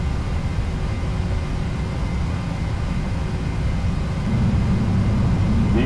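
An airliner's engines roar at takeoff thrust during the runway roll, a steady, dense broadband rumble heard from inside without any voices.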